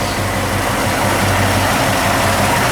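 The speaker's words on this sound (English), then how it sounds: "Nice running engine" A 1966 Ford Mustang coupe engine runs at a steady idle, loud and close, with a continuous low rumble through dual exhaust and no talking.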